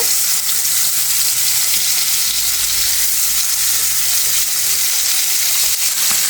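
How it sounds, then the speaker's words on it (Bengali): Live stinging catfish fry in hot oil in a frying pan, giving a loud, dense, continuous sizzle and crackle that stays steady throughout with no voices. "ফ্রাই প্যানে তেল দিয়ে দিয়েছি গরম হয়ে গেছে এখন আমি শিং মাছগুলো দিয়ে দেব"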